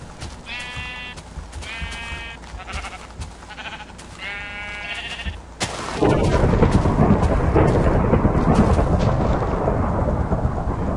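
Sheep bleat in the Minecraft Hunger Games, four wavering, close calls in a row, then a sudden loud crack of thunder gives way to a steady roar of rain that carries on to the end.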